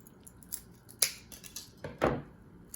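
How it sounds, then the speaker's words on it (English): Scissors snip through the long arms of an aluminium foil figure, several crisp close cuts at uneven intervals with two louder snips, no voices. "you're just gonna take your scissors and you're gonna snip them."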